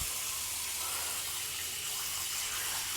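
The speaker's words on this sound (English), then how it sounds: "close the sink and then just put the warm water on." Warm water runs from a tap into a sink in a steady, continuous rushing hiss, close and moderately loud, with no one talking.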